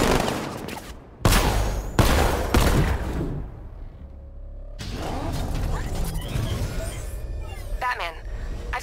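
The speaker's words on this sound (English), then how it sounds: "Millimeter cannon operational. Riot suppressor engaged." A tank's millimeter cannon and riot suppressor fire in Batman: Arkham Knight, with heavy booming bursts followed by mechanical whirring and rattling fire.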